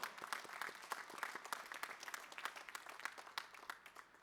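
A conference closing ceremony audience applauds a team, with distinct individual claps audible in an uneven patter, fairly faint and distant, gradually thinning out.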